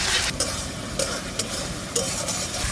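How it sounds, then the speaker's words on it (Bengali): Spice paste with turmeric stir-fried in a pan for a chicken kosha, a steady sizzle broken by several sharp scrapes of the spoon against the metal, close and fairly loud, with no voices. "ভালো করে মশলাটাকে কষাই নেব"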